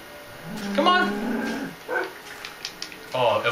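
A pet dog in the Minecraft video game gives a few short yips and whimpers that sound close by. Someone talks over them, and other faint game sounds play behind.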